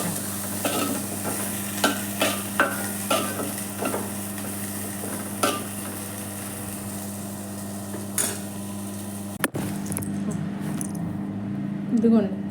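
Garam masala being stirred into a momo filling in a pan: repeated rhythmic scraping strokes of a spoon over a steady sizzle, with a voice speaking intermittently.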